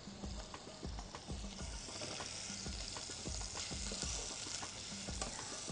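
Leeks frying in a pan with a spoonful of vinegar, a steady hiss of sizzling under repeated rhythmic scrapes and taps of a spoon, close and quiet, with no speech.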